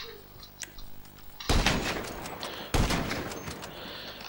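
Two loud, sharp sniper rifle shots from GTA V, about a second apart, each a hard crack with a brief echoing tail over quiet background noise.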